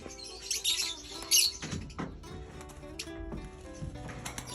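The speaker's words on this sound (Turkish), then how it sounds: "Kuşlarımız böyle. Cana yakın." Pet birds chirping close by indoors, a few short bright tweets and quick calls in the first seconds, then fainter scattered chirps among quiet household sounds.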